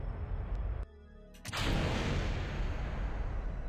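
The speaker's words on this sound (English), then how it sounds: "There was some explosion." A sudden explosion in the Kerbal Space Program game, landing at about 1.5 s after a brief near-silent gap, then swelling into a loud, broad, sustained rumble that keeps roaring to the end.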